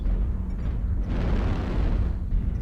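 Airstrike explosions in a multiplayer war game rumble as a dense, continuous low roar of blasts and debris, loud and sustained across the whole stretch with no voices.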